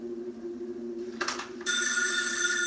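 Old-style telephone bell ringing in a horror film trailer, a steady bright metallic ring that starts faintly, then jumps louder and continues over a low hum, with no talk.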